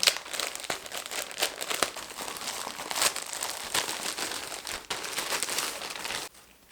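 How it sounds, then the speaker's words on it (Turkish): Plastic packaging crinkles and rustles continuously as a shopping package is opened up close, loud and busy throughout with a few sharper crackles, fading abruptly at the end. "Diğer pakete geçelim. Hemen şuradan açıyorum."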